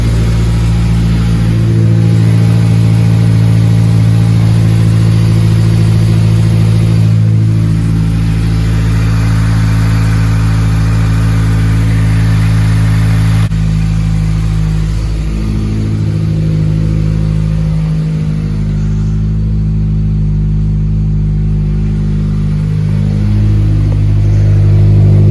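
A Honda S2000 engine runs close by in a garage, holding a loud, steady drone with a few brief swells in revs, with no voices over it.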